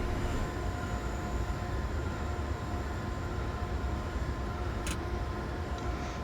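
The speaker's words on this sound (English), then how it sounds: "Probably just as well with a train passing either side." A steady, continuous rumble of trains passing on either side of a quiet station in Train Simulator 2020, with a brief sharp tick near the end.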